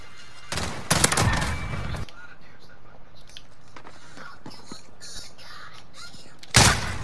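Gunfire in a Call of Duty multiplayer match, a loud burst of rapid shots followed by quieter scattered game sounds and another sharp burst at the end, with players talking faintly.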